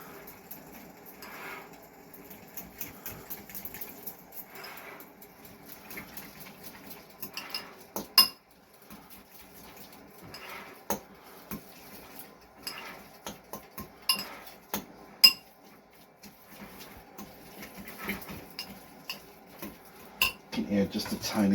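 Grated cheese being mixed with pasta water in a bowl for cacio e pepe, heard as scattered utensil clinks and scraping against the bowl, fairly quiet, in irregular bursts with a few sharper knocks.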